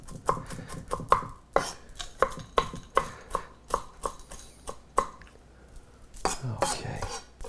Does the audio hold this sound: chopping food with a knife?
yes